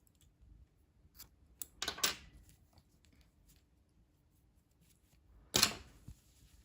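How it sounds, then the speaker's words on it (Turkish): Scissors snip crochet yarn close by, with a couple of faint clicks before and a sharp cut near the end, in an otherwise quiet room. "İpliği burada kesiyorum."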